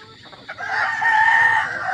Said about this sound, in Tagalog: Kasi tinalaukan tayo ng inahin.